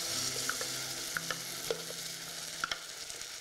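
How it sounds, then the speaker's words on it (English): Tomatoes go into a pan of softened onions for a fish curry, a soft continuous sizzle dotted with small clicks and taps of stirring, quiet and close. "So my onions are softening nicely. In goes my tomatoes."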